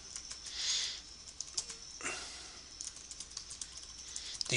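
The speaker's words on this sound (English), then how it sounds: "and I will type in" Keys on a computer keyboard are tapped in an irregular run of soft, close clicks over a quiet background.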